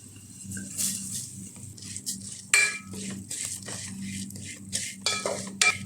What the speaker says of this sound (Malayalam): അവിൽ നെയ്യിൽ കിടന്ന് നല്ലോണം ഫ്രൈ ആയിട്ടുണ്ട് കേട്ടോ